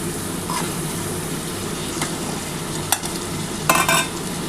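Spice masala frying in a pan for a mutton keema bora curry with potatoes, giving a steady close sizzle with a few sharp spoon scrapes and clinks against the pan and no talk.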